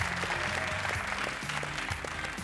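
Studio audience at a Greek Wheel of Fortune game show applauding steadily, a dense, even wash of clapping that fills the whole stretch without letting up.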